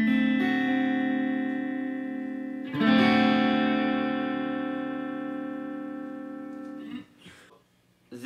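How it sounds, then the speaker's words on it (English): A D seventh open chord on acoustic guitar, strummed once and left ringing, then restruck near three seconds and sustained until it is muted just before the end; a few faint handling noises follow. "Moving on, we have the D seventh chord."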